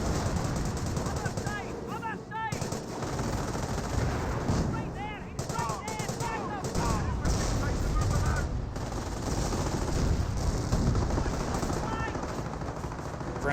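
Machine gun fire from a bunker MG in the World War II strategy game Company of Heroes, with rapid bursts and scattered gunshots and artillery throughout, under a commentator's ongoing talk.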